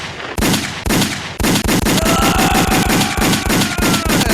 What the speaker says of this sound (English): Gunshots off.